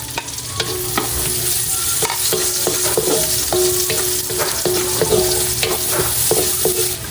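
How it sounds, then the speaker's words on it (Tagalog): Garlic and onion sizzle steadily in hot oil for palabok sauce, with a spoon or spatula clinking and scraping the pan in an irregular rhythm, close and fairly loud with no talking. "Ako po ay magigisa na ng bawang at saka po ng sibuyas."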